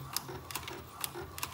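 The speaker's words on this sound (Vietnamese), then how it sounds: "Đây là mình đang in" An Epson inkjet printer printing on plain paper in slow mode with a smearing fault, giving a fast mechanical clatter of rapid clicks and short bursts from the print head, close and steady.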